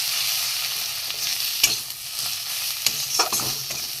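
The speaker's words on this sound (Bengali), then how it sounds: "একসাথে আমি একটু কষিয়ে নেবো" Chili, turmeric, grated ginger, cumin-coriander and garam masala sizzle and fry in a pan for an egg potato curry, with a close, steady hiss broken by a few sharp stirring scrapes and no talk.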